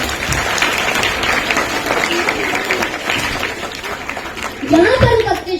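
Students and teachers applaud in welcome as a class 5 boy comes up to recite a poem at a school Hindi Day event, loud sustained clapping mixed with chatter and light laughter, with a voice rising near the end.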